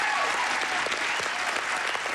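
A studio audience at a 1982 Family Feud taping cheers and applauds steadily, a dense, continuous wash of clapping that holds loud and even throughout without a break.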